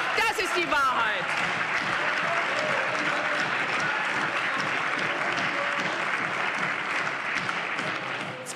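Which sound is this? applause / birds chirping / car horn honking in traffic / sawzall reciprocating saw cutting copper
applause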